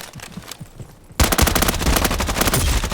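A close, loud burst of rapid automatic gunfire breaks out after a quieter stretch in a Roblox shooting game and keeps going as a dense, continuous rattle to the end.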